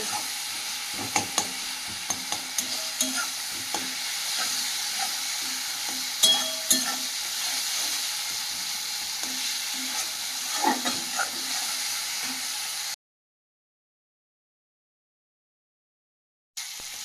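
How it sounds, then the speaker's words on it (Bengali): Spice paste fries in oil in a pan for a sea fish curry, a constant close sizzle with scattered utensil clicks and stirring, broken by several seconds of silence before the frying briefly resumes; no voices. "মশলা তো এই তেলটাও ছেড়ে দিয়েছি"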